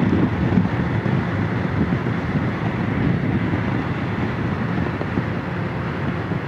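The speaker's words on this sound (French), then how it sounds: "Bon là, il y a le vent, parce que je passe le pont" Heavy, constant wind roar buffets the microphone over a low rumble of a moving K1600GT motorcycle crossing a bridge, loud and unbroken throughout.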